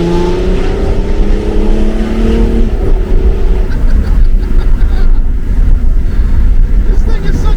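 A BMW E70 X5 diesel accelerates hard in first gear, the engine note rising as the turbo spools, loud and close throughout.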